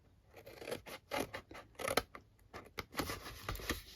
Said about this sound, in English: So I want to cut up all of these lines here to that score